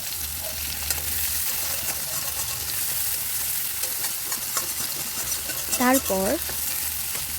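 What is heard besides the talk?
panch phoron, onion and dry chilli frying in oil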